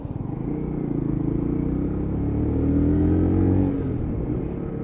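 A Lexmoto ZSB motorcycle rides past with a steady buzzing engine that swells louder, then eases off as the rear brake on its combined braking system slows it, the drone fading back down.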